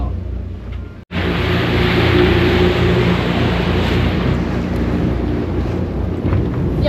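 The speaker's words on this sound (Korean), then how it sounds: "비 오는 게 아니고 파도가 창문에 쳐서 지금 창문이 젖어서 잘 안 보여요" Waves wash against the window of a sailing yacht at sea, heard as a loud, continuous rushing wash mixed with wind after a brief pause at the start.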